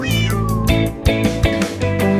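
Cartoon cat meows sung within a French children's song, with bright melodic meow tones layered over steady music and rhythmic beats, loud and continuous.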